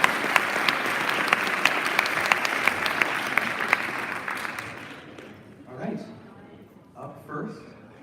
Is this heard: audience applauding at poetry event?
yes